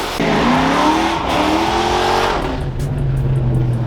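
A car, likely a Ford Galaxie, does a one-legger burnout with a loud, close engine roar and rising revs, tire squeal and skidding, then the engine settles to a steady lower drone.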